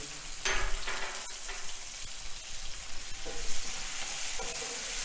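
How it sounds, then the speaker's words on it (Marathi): Chopped capsicum goes into tomatoes frying in hot oil, with a continuous close sizzle, a burst of crackling as the pieces land, and intermittent spoon scrapes against the pan, no voices. "आता त्यामध्ये शिमला मिरची घालायची"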